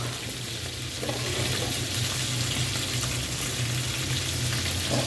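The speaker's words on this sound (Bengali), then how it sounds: "2 মিনিট ভেজে নিই ভালো মতো।" Dried fish and salt-boiled jackfruit seeds fry in oil, giving a loud, continuous, dense sizzle right up close, steady throughout with faint stirring and no voices.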